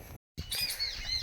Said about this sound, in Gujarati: પંખી પંખી